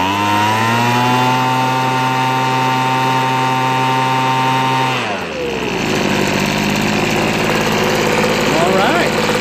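A Poulan Pro BVM200VS gas leaf blower engine idles loud and close with a steady buzzing drone, then its pitch drops midway and settles into a rougher, lower running note.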